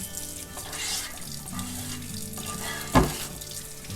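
Hot tap water runs into a sink over a bar pan while a rubber scraper works off residue, a steady hiss and trickle with one sharp clatter near the end.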